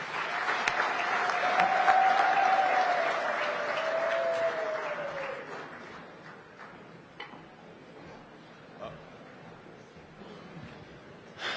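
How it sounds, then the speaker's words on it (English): Audience at a heads-of-state summit giving a round of applause, steady moderate clapping from a large hall that tapers off after several seconds, leaving scattered claps and room noise. "may I request the audience to just give us 2 rounds of applause"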